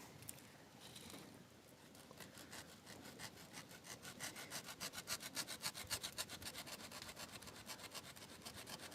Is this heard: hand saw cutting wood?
yes